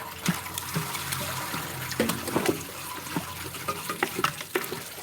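Liquid pours into a container while a watermelon milkshake is made, giving a steady trickle with scattered splashes and drips throughout; close but fairly quiet.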